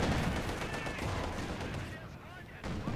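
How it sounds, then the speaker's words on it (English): Company of Heroes 2 Panzer Grenadiers fire G43 rifles at conscripts during a tournament match, producing rapid overlapping gunshots and battle noise that fill the whole stretch. "Panzer Grenadiers trying to pick off those conscripts. Again, with G43s."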